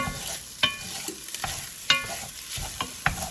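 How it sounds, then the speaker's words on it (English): Sausage browns in a pan under a steady, close sizzle, punctuated by several sharp clacks of a spatula scraping and turning the meat at irregular intervals. "I'm just going to brown this sausage"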